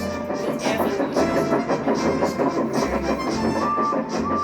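Train engines run along a railway, giving a steady close rumble with rhythmic clatter and a brief whistle-like tone near the end, loud and continuous.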